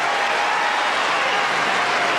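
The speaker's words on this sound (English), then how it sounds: "The Americans are going crazy in the stands" American fans in the stands roar and applaud for Sampras at the 2000 Miami tennis final against Kuerten, a dense, steady wash of clapping and cheering that fills the whole moment.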